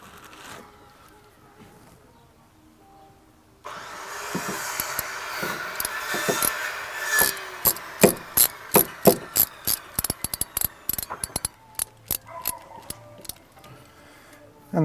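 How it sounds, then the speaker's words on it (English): A hose clip is ratcheted tight around a gas pipe fitted to an Ooni pizza oven regulator, giving a close run of sharp, evenly spaced metallic clicks that speed up and then trail off. "Now it's just a case of using a clip to secure."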